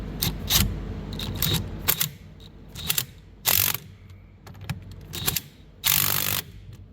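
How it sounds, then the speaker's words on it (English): A ratchet tightening the nut on a G-body steering wheel with an NRG quick release kit, heard as several quick bursts of rapid clicking separated by short pauses, close and loud. "I'm just gonna zip it down for now just to get this piece tight."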